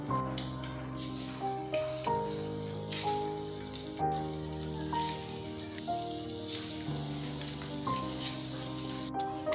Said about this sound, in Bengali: ডিমগুলোকে আমরা উল্টে পাল্টে ভালো করে ভেজে নেব